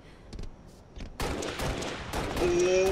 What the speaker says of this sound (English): I literally just spawned and ricocheted a shot off the wall and sniped the kid.